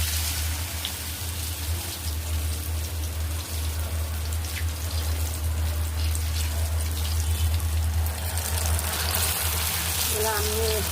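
Batter-dipped sweet potato sukhiyalu drop into hot frying oil, making a continuous rain-like crackle and sizzle over a steady low hum, with a voice briefly in the background.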